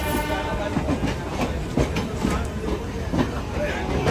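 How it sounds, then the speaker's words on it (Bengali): The Chambal Express pulls into Howrah station with a steady, loud rumble and rhythmic wheel clatter close by. Voices are faintly audible under the train noise. "ট্রেন আমাদের গন্তব্য স্টেশনে ঢুকে গেছে হাওড়াতে"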